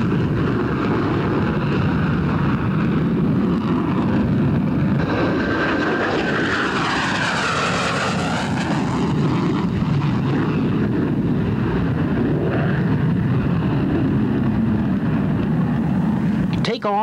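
A 1982 F-15 fighter jet makes a maximum-performance takeoff with afterburners, a loud, continuous roar that swells and shifts in pitch as the aircraft accelerates and climbs, with a voice speaking over it.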